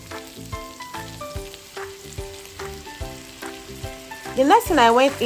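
Spoonfuls of broth stock stirred into a sizzling seafood boil pot of crab, shrimp and corn in butter sauce, with steady frying and stirring scrapes under a musical backing.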